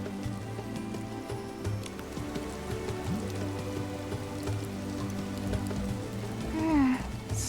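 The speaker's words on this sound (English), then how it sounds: "I love how refreshing the cool raindrops feel." Rain falling in Infinity Nikki, a steady patter of drops over a low background hum, with a brief rising tonal chime near the end and no speech.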